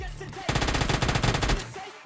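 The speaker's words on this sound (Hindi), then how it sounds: "अब यहाँ पर नीचे फायरिंग की आवाज़ आ रही थी" Rapid automatic gunfire in a battle royale video game, a loud dense burst of shots lasting about a second, heard alone.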